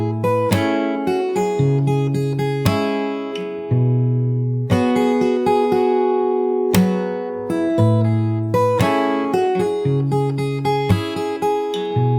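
Fingerstyle guitar picks through the pre-chorus of a song, steady plucked chords and melody notes ringing over low bass strings; close and alone, with no talking.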